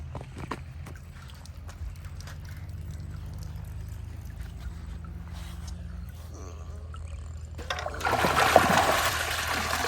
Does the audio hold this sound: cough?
no